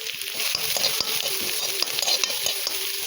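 Garlic, green chilies and chopped beans and carrots stir-frying for homemade fried rice, a steady close sizzle with irregular scraping taps of a spatula against the pan throughout.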